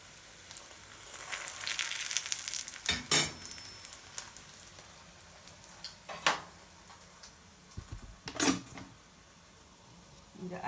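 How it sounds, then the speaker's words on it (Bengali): Mughlai paratha sizzles as it drops into hot oil, with a bright hiss swelling near the start and then settling into quieter frying, broken by a few sharp clatters and bursts of sizzle. "যে তেল গরম হয়ে গেছে এখন দিয়ে দিলাম"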